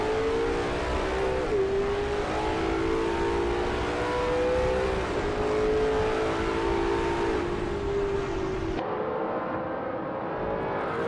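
Several vintage race cars in a racing video game roar off the start at Onodera Circuit National, engines revving loud and close with rising pitch sweeps as they shift and accelerate, a steady blended engine roar throughout.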